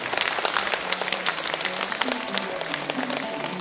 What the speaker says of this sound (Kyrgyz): агабызга да бир кол чаап коюңуздарчы